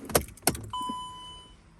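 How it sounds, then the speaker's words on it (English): The ignition of a 2010 Dodge Sprinter van is switched off and on, giving two sharp clicks close by, followed by a clear electronic chime that holds and slowly fades. "Switch off ignition, which we will do. Switch on ignition."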